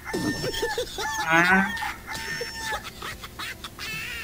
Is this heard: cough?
no